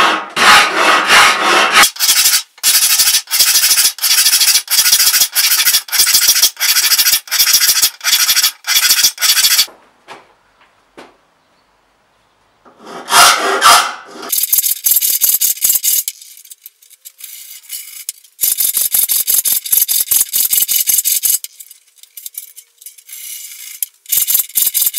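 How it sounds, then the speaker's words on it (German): A hand file sharpens the teeth of a band saw blade, fast rhythmic rasping strokes repeated in long close runs, broken by a pause and an occasional metallic scrape, with no talking. "Wichtig ist noch, dass ihr die Feile immer 90 Grad zum Sägeband haltet."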